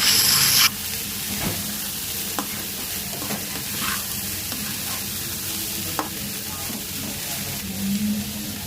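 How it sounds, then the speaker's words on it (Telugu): Potato and carrot pieces fry in a pan with a continuous close sizzle, stirred with occasional scrapes and taps of a spatula. "అందులో తరుగు పెట్టుకున్న బంగాళదుంపలు, క్యారెట్ ముక్కలు వేసి బాగా వేగించుకోవాలి."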